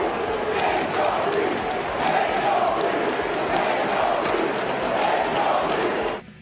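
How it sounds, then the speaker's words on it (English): Pistons fans in a Detroit arena chanting a player's name in unison, a dense, steady roar of massed voices with rhythmic swells that cuts off abruptly at the end. "So they were chanting Angel Reese's name"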